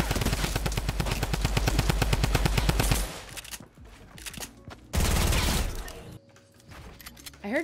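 Rapid automatic gunfire from players fighting in a Fortnite Season 9 solo match, loud dense bursts for three seconds, then a pause and another strong volley, with sparser shots and game sounds between.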